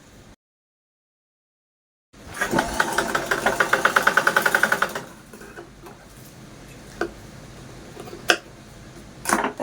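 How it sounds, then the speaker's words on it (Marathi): A sewing machine stitches a fabric handle onto a pouch in a quick, regular run of mechanical pulses lasting about three seconds after a silent start, followed by softer handling sounds and taps. "आपण हे जे काय हँडल आहे ते एका साईडने स्टिच करून घेतलेलं आहे"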